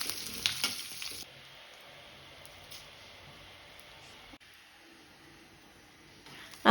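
Curry leaves and red chilli hit hot oil with a loud, crackling burst in the first second, then settle into a steady, quieter sizzle that runs on alone, with a faint clatter near the end.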